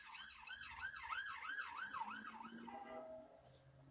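A wailing emergency vehicle siren sweeps up and down in steady cycles at moderate distance, then drops to a lower steady tone as it fades, with no talk over it.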